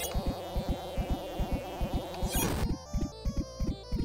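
Buzzing bees in the game Haunting Starring Polterguy drone in a dense, wavering hum over a steady thumping beat. A sharp sweeping effect briefly cuts through midway, and the insect whine continues thinner afterward.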